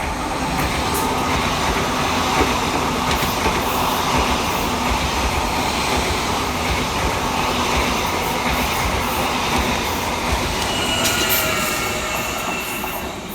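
A Greater Anglia train roars through Stoke Newington station at speed without stopping, a steady loud rush of wheels and rumbling carriages with occasional squeals, close and continuous throughout.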